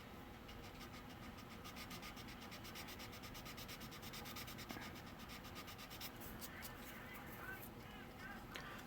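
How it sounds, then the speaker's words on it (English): Hand sanding on wood molding during a car build, a faint, steady rasping scrub with rhythmic strokes, under a low background hum and murmur. "I'm sanding all this out so that way we can get a flush"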